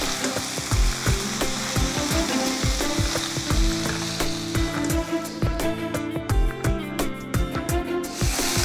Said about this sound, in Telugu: ఇప్పుడు ఈ టమాటాలు సాఫ్ట్గా అయ్యే వరకు ఉడకనివ్వాలి.